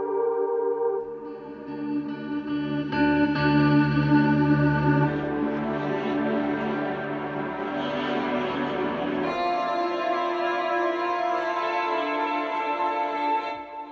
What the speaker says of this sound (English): then we've got guitar ambient mix